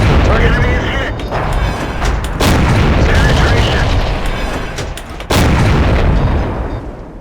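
Tank gun fire from a T49 in a tank battle video game, with heavy booming shots over a constant dense rumble of engine and battle noise, two sharp loud blasts standing out.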